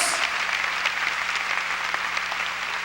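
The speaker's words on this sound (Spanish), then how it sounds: "Dele un aplauso al Señor bien fuerte." A church congregation applauds loudly during a sermon, a continuous dense clapping that carries evenly through about three seconds with a faint low hum underneath.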